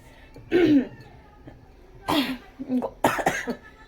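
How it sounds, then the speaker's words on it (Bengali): Someone with a cold coughs several times nearby: one harsh cough, a pause, then a heavier cluster of throaty coughs and throat clearing. "একটু ঠান্ডা লেগে গেছে কাশি হচ্ছে"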